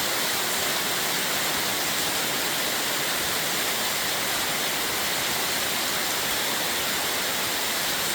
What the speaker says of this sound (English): just sit there, listen to the rain